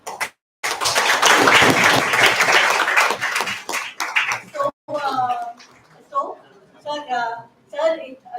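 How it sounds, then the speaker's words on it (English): An audience at a PhD research synopsis presentation applauds for the research guide, several seconds of dense clapping that then gives way to people talking. "please give a round of applause to my guide"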